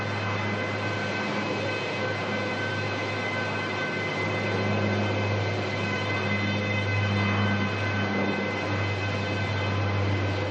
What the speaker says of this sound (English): It's the air starter. It's just horrific.